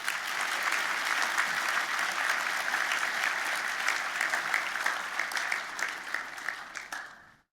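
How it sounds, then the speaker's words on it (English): Graduation ceremony audience at Victoria University in Melbourne breaking into sustained applause, a dense, loud wash of many hands clapping for about seven seconds before tapering off quickly at the end. "I think it deserves a round of applause"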